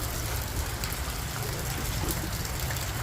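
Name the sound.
rain falling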